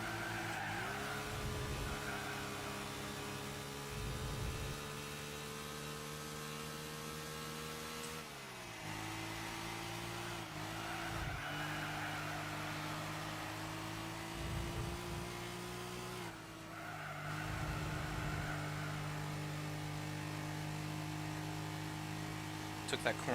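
A racing car engine in Gran Turismo 4 drones and revs through gear shifts, with tire squeals in places, continuous and fairly steady.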